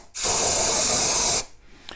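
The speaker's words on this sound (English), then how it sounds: "use some brake cleaner and spray it on the head" Brake cleaner sprays onto a Honda Accord F-series cylinder head in one loud, close, steady hiss lasting just over a second, then stops to near quiet.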